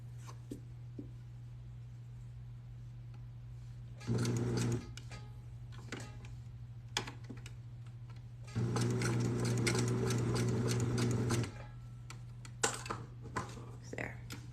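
Sewing machine stitching magenta velvet for a bikini bottom: two bursts of rapid, steady mechanical whirring and clatter, one short and one longer, close and loud over a constant low hum.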